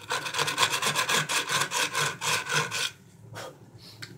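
A hand saw cuts through mulberry wood for a ladle with quick, steady strokes, loud and close, then stops abruptly as a few lighter scrapes follow.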